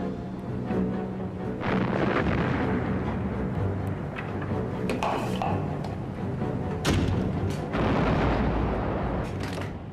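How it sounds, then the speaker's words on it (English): HMS Belfast's guns firing 6-inch shells during a naval battle, heavy booming thumps repeating over a dense, continuous rumble, distant and muffled. "Belfast's gunners loaded and fired hundreds of 6-inch shells."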